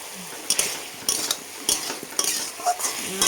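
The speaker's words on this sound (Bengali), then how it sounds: "ভালোভাবে এটা নাড়াচাড়া করে নিই" Potato, poppy seed and greens chorchori with turmeric and green chilli paste being stirred in a pan, repeated clattering spoon strokes against the metal over a light sizzle, close and uneven in rhythm.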